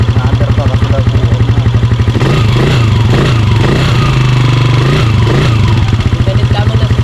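A motorcycle engine idles loudly and close with a rapid, steady pulsing chug, briefly rising in revs partway through before settling; voices talk faintly underneath.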